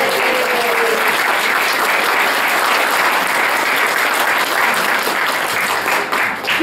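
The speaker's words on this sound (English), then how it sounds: "let's do one big round of applause for our honorees, both Marlene and Bruce Beal." Sustained applause from an audience honoring award recipients at a historical society Founder's Day event, dense and steady throughout, loud and close, thinning slightly near the end.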